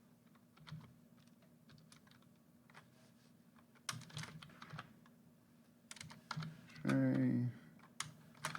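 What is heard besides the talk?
typing names on a computer keyboard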